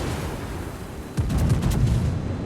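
The main guns of a battleship, the Mutsu, a Tier 6 Nagato in World of Warships, fire a short cluster of booming shots over a low, steady rumble of ambient noise.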